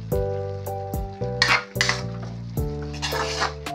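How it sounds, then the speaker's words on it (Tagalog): Mixed vegetables sautéed in a pan for a simple Filipino pakbet-style guisado, a close, steady sizzle with repeated stirring scrapes and a few bright utensil clinks against the pan, no voices. "Simpleng gulay lang. Ginisang gulay. Para sa hapunan."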